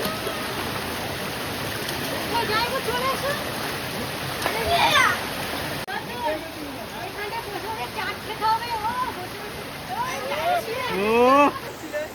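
People bathing in cold water, with steady rushing and splashing water close by and voices talking and calling over it throughout.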